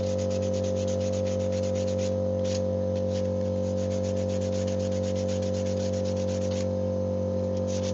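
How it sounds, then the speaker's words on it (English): Light hand sanding of a knife handle, heard as a steady rhythm of close, rasping strokes over a loud constant background hum, with no talk. "Kind of want to see what it looks like after I just give it a light hand sand."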